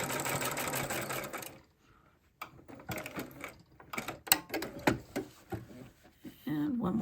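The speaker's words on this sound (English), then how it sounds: "try to hold it really close together as you're sewing these lines" Sewing machine stitching diagonal lines across a fabric basket made from jelly roll strips, a steady mechanical whir for the first second and a half, then short stop-start bursts with a person talking over and between them.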